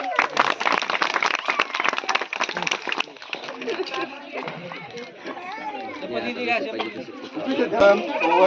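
Wedding guests at a Marathi village wedding clap for the bride and groom in a dense burst of applause lasting about three seconds, then it thins out under crowd chatter and people talking.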